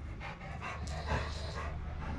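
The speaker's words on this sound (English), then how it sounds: "They're barking." Dogs at home pant rapidly and excitedly, close by, in a fast breathy rhythm with a few yelpy bursts and no clear full barks.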